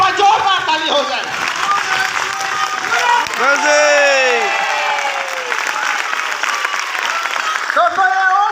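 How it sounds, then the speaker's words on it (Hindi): Loud applause from a standing audience at an event fills the scene as a continuous clapping wash, with a voice and tonal sounds carrying over it throughout. "खड़े होकर के एक बार जोरदार ताली हो जाए"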